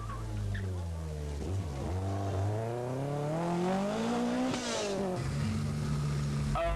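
A Lancia rally car roars past at speed, its engine climbing and falling through several gear changes before settling into a high steady drone, under a commentator's voice.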